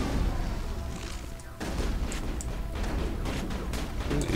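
Continuous rumbling gunfire and booming weapon fire from the Mass Effect video game on the Virmire mission, dense and steady throughout with a few sharper cracks standing out.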